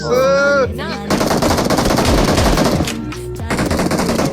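Sustained rapid machine gun fire rattles loudly for several seconds, briefly broken by a tonal sound, after a short musical voice at the start.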